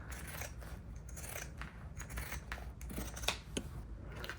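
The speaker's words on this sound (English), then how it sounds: "snips in will help that corner to smooth out nice and flat when we turn a flap out." Sharp scissors make several quick, close snips into fabric along a sewn curve, irregular crisp cuts over a quiet background with no talk.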